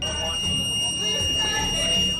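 A steady electronic alarm blares in a courtroom, two high sustained tones running through the whole stretch while chaotic voices shout and talk underneath.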